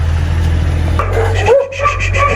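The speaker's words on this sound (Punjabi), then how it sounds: "ਦੋਵੇਂ ਲੱਗ ਪਈਆਂ ਭੌਂਕਣ" Two dogs break into barking together, a few sharp yaps rising over a steady low hum partway through the short stretch.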